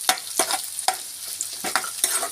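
Steamed potato being tossed with onions frying in oil for kanda poha: sharp spoon scrapes and clinks repeat irregularly against the pan over a light sizzle, close and fairly loud, with no speech.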